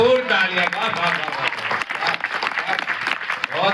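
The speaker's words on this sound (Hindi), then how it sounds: "एक बार भरपूर तालियां।" An audience claps enthusiastically, with a voice speaking over the steady applause.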